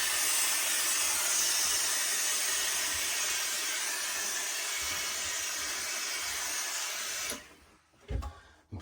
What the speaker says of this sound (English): I'm just going to put some steam on.